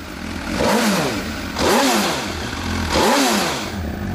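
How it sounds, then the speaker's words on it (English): An MV Agusta F4 four-cylinder motorcycle engine revs hard three times in a row, each rise climbing to a loud, high-pitched scream before dropping back, close to the microphone. "Sound check for the bike."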